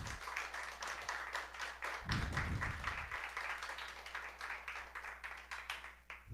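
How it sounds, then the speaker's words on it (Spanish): Scattered clapping from a small congregation during a Catholic sermon, individual claps audible as separate sharp hits, with a low hum underneath and a brief rumbling burst partway through. "Le damos un fuerte aplauso al Señor"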